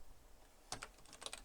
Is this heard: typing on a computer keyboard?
yes